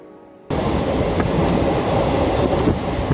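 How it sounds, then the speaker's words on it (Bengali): A Howrah to Haldia local train runs along the tracks, a loud steady rumble with wind rush that starts abruptly and continues without talk. "ফাঁকা ট্রেন ঝিকঝিক করতে করতে এগিয়ে চলল"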